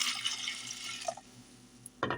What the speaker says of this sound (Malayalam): പയർ വേവുന്നതിന് ആവശ്യമായിട്ടുള്ള വെള്ളം ഒഴിച്ചു കൊടുക്കാം.